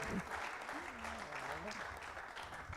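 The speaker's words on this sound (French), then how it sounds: "Bravo, on peut vous applaudir" Faint applause from the audience at an awards ceremony for partnership research prizes. The clapping is a soft, distant wash, and a voice speaks over it.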